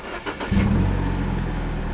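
The 1.6-liter turbocharged four-cylinder of a 2013 Mini Paceman S cranks briefly, then catches and settles into a throaty, steady idle, heard up close with no talking.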